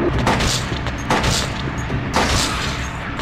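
Gunshots ring out in the horror game Silent Hill 2, a handful of loud, sharp bangs spaced irregularly over a steady low rumble of game ambience.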